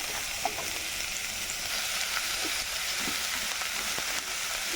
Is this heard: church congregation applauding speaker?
no